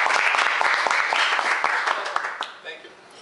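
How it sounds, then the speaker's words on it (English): A room full of people claps in a round of applause for the principal of FDNY High School for Fire and Life Safety, with sharp, dense hand claps that fade out near the end while voices murmur underneath. "So let's please give him a round of applause."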